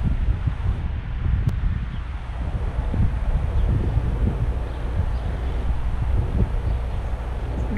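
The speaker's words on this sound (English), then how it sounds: "that wind is blowing" Strong wind buffets a DJI Phantom 4 Pro drone's microphone high above a truck stop in Gaston, Indiana, a steady loud low rumble that roars continuously with no voices.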